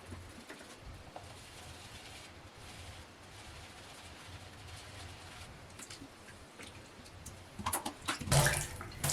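A makeup brush is rinsed under a running tap, giving a steady soft hiss of flowing water that swells into louder splashing near the end.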